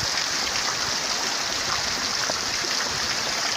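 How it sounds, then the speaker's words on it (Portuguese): Heavy rain during a downpour in Monte Azul, northern Minas Gerais, with rainwater rushing in a strong current, a dense continuous hiss and gush, loud and close, with no voices. "Já choveu muito aqui, continua chovendo muito."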